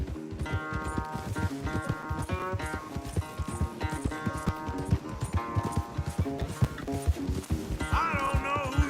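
Horse hooves pounding in a fast, rhythmic gallop during a race in Red Dead Redemption 2, loud and close, with tonal game sounds layered over the hoofbeats.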